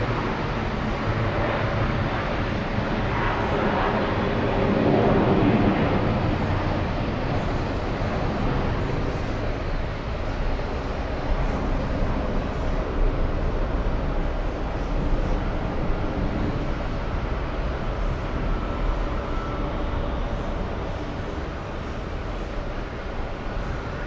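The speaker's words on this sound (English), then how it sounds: "an A321 flying to Santa Ana." Steady, broad jet roar from an Airbus A321 at JFK airport, swelling slightly early on and then holding as a continuous distant rumble with wind-like hiss throughout.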